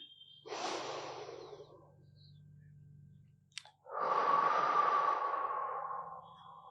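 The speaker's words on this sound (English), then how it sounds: "Take some deep breaths." Deep breathing during a side-to-side crunch workout for the obliques: one long breath, a short pause, then a second, louder and more forceful breath, heard close and alone with no talking.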